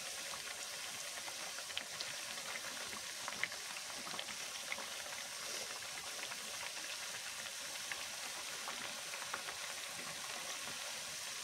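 Masala vada and curry leaves fry in hot oil, a steady, even bubbling hiss that stays moderately quiet throughout with no voices over it.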